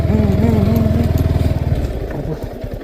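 A motorcycle engine runs close by with a steady, throbbing low pulse on a road near Hattaguda in the Araku Valley, easing slightly in loudness toward the end.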